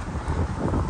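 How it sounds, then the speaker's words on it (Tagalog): Strong wind buffeting an outdoor microphone, a continuous loud rumbling roar with low-frequency gusts across the whole second and no other sounds. "So windy."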